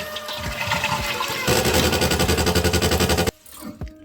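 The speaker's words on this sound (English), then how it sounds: "Listen to this after I flush the toilet." A household toilet with a cracked fill valve flushes with a rushing gurgle, then the refill runs as a loud, rapid rhythmic pulsing buzz before cutting off abruptly into quiet trickling and a few knocks.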